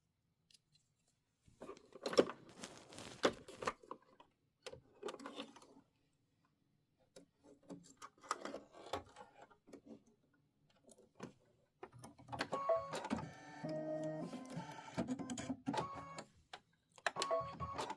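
A Kimberbell embroidery machine stitching a patchwork flag block gives faint, intermittent mechanical ticking and whirring bursts separated by quiet gaps, with a denser stretch of stitching near the end.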